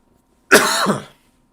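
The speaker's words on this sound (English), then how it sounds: "I gotta get this cough out of here" A single harsh cough bursts out close to the mic, lasting about half a second, surrounded by quiet.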